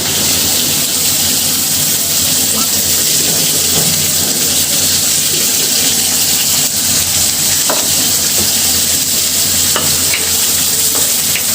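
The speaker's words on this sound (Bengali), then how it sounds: "দিয়ে দিচ্ছি পেঁয়াজ মরিচ কুচি, দিয়ে দিচ্ছি তেল" Chopped onion and chili fry in oil in a pan over a low gas flame, giving a steady, loud, continuous sizzle throughout with faint stirring clicks.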